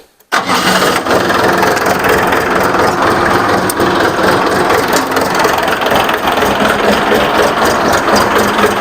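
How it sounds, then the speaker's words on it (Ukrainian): A tractor or similar motor engine starts up abruptly and then runs loud and steady, revved hard at close to full throttle, with a constant mechanical rattle throughout and no talking. "Даю газу практично на максимально."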